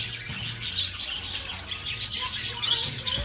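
Many caged birds at a bird market chirping and tweeting continuously, overlapping high calls close by, with a faint voice in the background.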